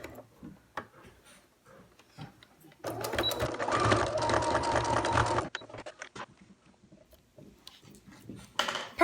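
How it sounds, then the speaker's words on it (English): A sewing machine stitches a t-shirt yarn strap in one steady whirring run of about two and a half seconds, close and loud, with quieter handling noises before and after. "make sure it's not going to get in the way of the sewing machine, and I'm going to sew as close to that edge as I can"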